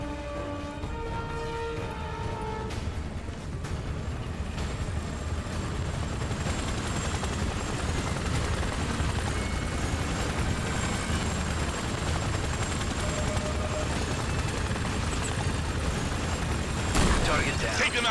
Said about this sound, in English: we have a hostile chopper inbound for the VIP's position. It's heading straight for the LZ.